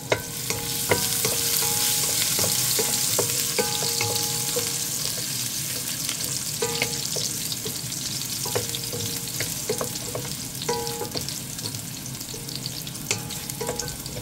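A wooden spoon stirs curry crab frying in a pan, making repeated scraping and clacking knocks over a continuous sizzle, close and loud throughout with no speech.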